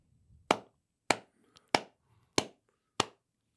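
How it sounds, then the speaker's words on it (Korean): Five sharp, separate hand claps at an even pace, close and loud against a quiet room, with no other sound between them. "왜 박수를 치는 거예요?"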